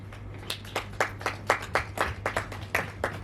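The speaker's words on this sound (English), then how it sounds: "once again, a round of applause for our panelists." Audience at a luncheon event clapping for panelists, a sparse, fairly quiet burst of distinct individual claps in an irregular rhythm, with no talk over it.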